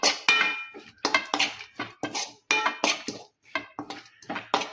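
A spoon stirring greens curry with coriander in a pan, scraping and clinking against the metal in quick, irregular strokes, close and loud with no talk.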